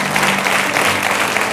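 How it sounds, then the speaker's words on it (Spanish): A church congregation applauds in a continuous, loud wash of clapping that fills the room, steady throughout the short burst with no voices standing out. "Damos un aplauso al Señor por lo que hizo."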